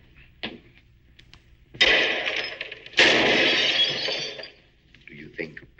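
Gunfire in a 1948 film: two sharp loud bursts, each with a bright crashing ring and short decay, between quieter film sound.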